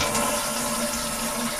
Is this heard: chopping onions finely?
no